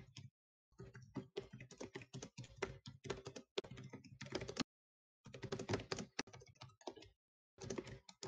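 Computer keyboard typing in rapid bursts of close, crisp key clicks, broken by a couple of short pauses, with no voices.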